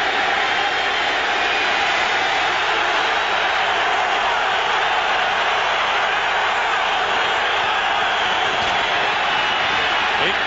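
Steady, dense roar of a stadium crowd at a 1997 Cowboys–Giants NFL football game at the Giants' home field, a continuous broad wash of noise that fills the whole stretch without letup.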